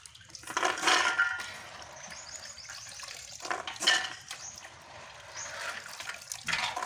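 Soaked chickpeas being washed with water in a kitchen, running water and sloshing in bursts with quieter trickling between them, faint and close.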